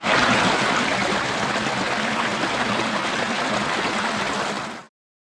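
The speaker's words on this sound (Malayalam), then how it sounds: "നമ്മൾ പോകുന്ന വഴിയിലുള്ള ഒരു കുഞ്ഞു പുഴയാണ് കേട്ടോ" A small forest stream on a trekking trail in the hills near Agasthyarkoodam flows in a steady, close rush of water that continues unbroken for about five seconds before stopping abruptly.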